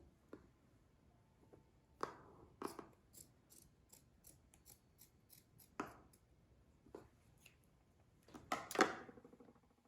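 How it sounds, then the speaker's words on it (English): Scissors snip through T-shirt fabric while a face mask is made, giving several crisp, close cuts spread apart, with a denser burst of snipping near the end and no talking. "And then you're going to cut across."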